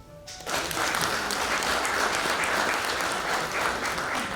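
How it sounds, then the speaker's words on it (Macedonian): An indoor audience at a pensioners' association anniversary event bursts into applause, a dense, steady clapping that swells quickly after a brief quiet start and carries on evenly. "Ве молам за аплауз"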